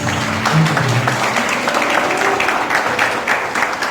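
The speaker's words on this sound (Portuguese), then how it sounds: "aplauda essa palavra em nome de Jesus" Steady applause from a church congregation fills the space, a dense, continuous patter of many hands clapping at once.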